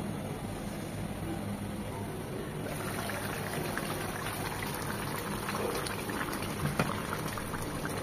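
Hilsa fish curry with flat beans and potato simmers in a pan, giving a steady low bubbling and soft crackle that stays even throughout, with no voices.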